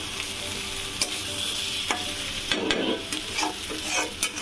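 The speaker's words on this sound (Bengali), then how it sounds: "মা এটাকে ভালো করে কষাবে" Rice and lentils stir-fried in a pan, a close sizzle broken by repeated spatula scrapes and knocks against the pan.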